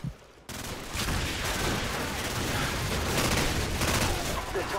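Dense, sustained automatic gunfire and explosive bursts fill a Call of Duty Modern Warfare battle scene while defending a position near an extraction zone, loud and continuous after a short quiet opening.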